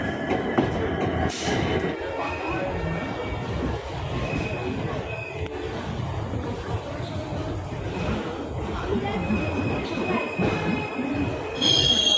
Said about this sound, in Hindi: तो अपने तय समय से 8 मिनट डिले हमारी ट्रेन को मेरठ जंक्शन से रवाना हो गई है